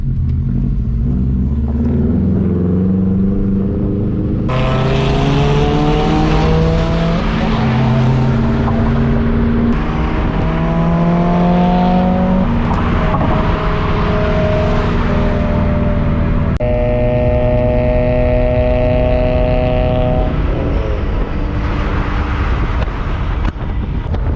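A Subaru with an FA20 engine pulls away and accelerates through several gears, its engine rising in pitch and dropping at each shift, loud and close with steady wind rush throughout.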